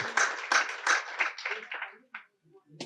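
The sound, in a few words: audience clapping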